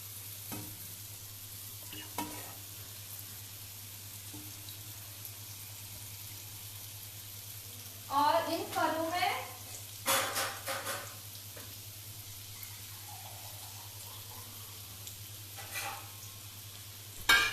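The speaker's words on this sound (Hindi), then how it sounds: "अब मैं अपने फरों को एक एक करके इस घी में रखूंगी।" Pharas are laid one by one into hot ghee, starting a soft sizzle under a low steady background hum, broken by a few louder bursts of frying and clinks of a utensil against the pan.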